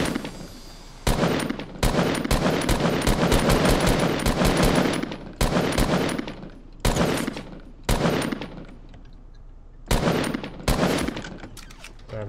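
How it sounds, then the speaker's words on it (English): Gunfire in a multiplayer shooter video game while firing at players near a blue house: long, loud automatic bursts broken by brief pauses, with sharp single cracks between volleys. "Alright, I'm shooting guys at blue house."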